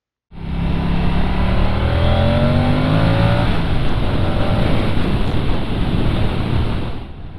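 Moto Guzzi V100 Mandello S motorcycle engine under way, a loud, steady roar with a rising engine tone under heavy wind rush, continuous for about seven seconds.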